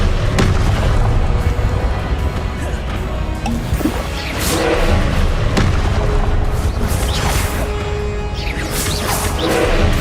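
Spell-combat blasts from the Hogwarts Legacy video game, including the Confringo fire spell, burst out as repeated loud booms and crashes over a dense, continuous game soundscape with whooshing effects.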